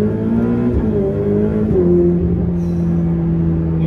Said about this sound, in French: Je profite qu'on ait un petit tunnel pour vous faire la première accélération.